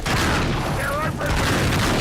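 Rapid gunfire in the video game Uncharted 3, a sustained rattle of shots with booming impacts, loud and close throughout, with game sound dense around it.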